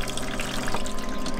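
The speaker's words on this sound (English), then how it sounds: "in here we have the toilet that has running water" Water running in a small campsite toilet, a steady close rush and trickle of flowing water that holds evenly for a moment without talk.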